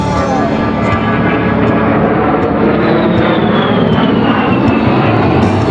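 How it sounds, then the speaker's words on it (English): An A-10 jet with two TF-34 turbofan engines roars past at an air show demonstration, a loud, steady turbine whine with a falling high tone as it passes. "The A-10's two TF-34 turbofan engines add more than just power to its performance."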